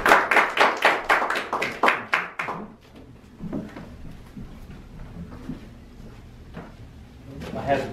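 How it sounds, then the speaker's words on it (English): Small group applause at a Toastmasters meeting, a few seconds of brisk close clapping that stops abruptly, followed by quiet room noise and faint talk. "let's please give a warm round of applause to Maurice"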